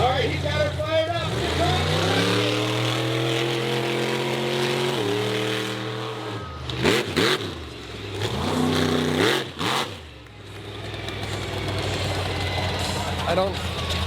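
Monster truck engine at a Dinwiddie, Virginia show, loud and close, holding steady rumbling idles and then climbing through repeated revving bursts with crowd noise and talk underneath.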